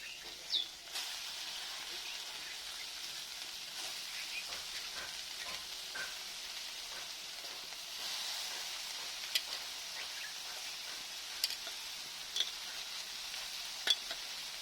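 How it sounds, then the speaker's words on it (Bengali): Chopped cabbage sizzling and frying in a hot pan for a Bengali vegetarian cabbage dish, a steady close hiss with occasional stirring clicks and scrapes, no talking. "কপিগুলো দিয়ে দিচ্ছি।"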